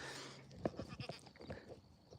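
Goats bleating on a farm, a few short quavering bleats close by, faint and brief.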